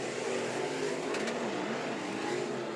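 Dirt track race cars at Stockton Dirt Track roar past during a heat race, a loud continuous engine drone with a brief swell as one car moves by, steady crowd-and-engine wash throughout.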